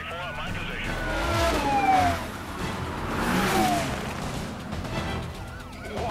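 A car races past in the Need for Speed Carbon video game during a police chase, its engine pitch sweeping down twice as it passes, with siren-like tones, crash noise and faint voices layered over a steady roar.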